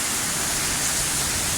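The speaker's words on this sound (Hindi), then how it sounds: "बारिश बहुत तेज़ है" Heavy rainstorm in Jeddah, a dense, steady roar of downpour filling the whole clip at close range, with no voices over it.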